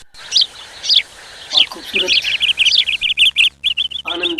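Birds chirping and tweeting at Delhi zoo, a run of quick bright calls that speeds into a rapid repeated series, close and clear, with voices briefly talking underneath.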